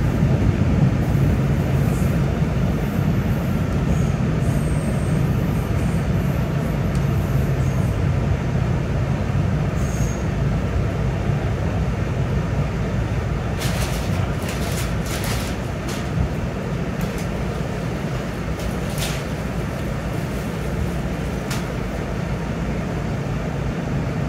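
A brand-new R211S subway train on the Staten Island Railway, a St. George bound local running with a continuous low rumble and rolling rail noise, plus occasional brief clanks and squeaks over the steady ride.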